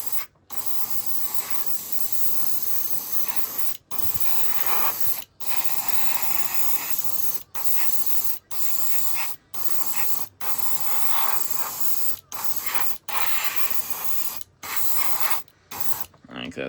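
Short bursts of hissing spray paint coat a 1972 Chevy Fleetside model truck in red, a close, steady hiss cut off again and again by brief stops, with no voices.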